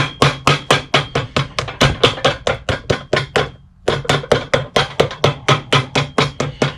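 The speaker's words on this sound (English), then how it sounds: "let me hammer real quick" Rapid, steady hammer blows on a new JR leather sole fitted to an Allen Edmonds shoe, roughly four strikes a second, loud and close, with a brief pause midway before the pounding resumes; no speech.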